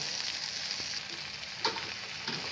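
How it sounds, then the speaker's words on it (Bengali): Jute greens, garlic and dried chili frying together in oil make a steady close sizzle with a few sharper crackles and stirring scrapes, no voices. "এখন শাক, রসুন, মরিচ সবগুলো একসাথেই আবার এগুলা তেলে ভেজে নিচ্ছি।"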